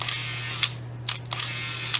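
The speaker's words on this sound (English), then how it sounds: "the camera will automatically advance it into the take-up area, just like that" A Canon T70 film camera's built-in motor winds the film forward into the take-up spool after a shot, giving a few sharp whirring bursts over a steady low electrical hum, close and fairly quiet.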